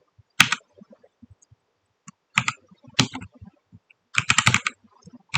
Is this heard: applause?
no